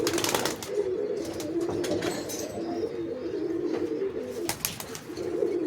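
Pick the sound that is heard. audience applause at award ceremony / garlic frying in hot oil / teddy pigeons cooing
teddy pigeons cooing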